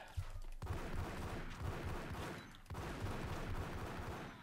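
Rapid bursts of gunfire rattle through a Max Payne shootout, shots repeating in quick volleys with a brief pause between two clusters, loud and dense against game ambience, with no voices.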